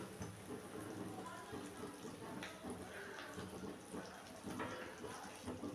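Fish curry gravy for katla boils in a pan, a soft, continuous bubbling hiss with scattered pops, faint and steady throughout.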